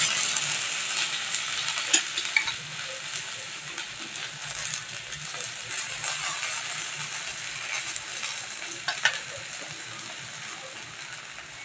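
Sorghum flour dhirde sizzles on a hot griddle over a gas flame, a steady close hiss that runs throughout with scattered scrapes and taps as the batter is turned.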